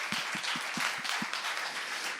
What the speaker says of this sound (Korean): 이준석 의원을 따뜻한 박수로 환영해 주시기 바랍니다